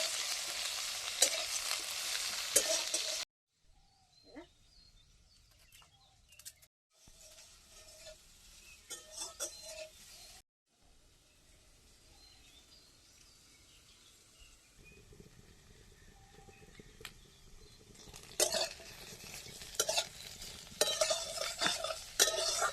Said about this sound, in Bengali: বেগুন হালকা ভাজা হয়ে গেছে